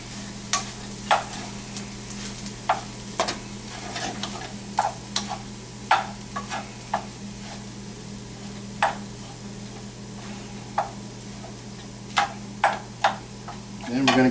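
Rice in a pan is stirred with powdered black pepper, sharp scraping clicks of the spoon against the pan recurring irregularly over a low steady hum and faint sizzle.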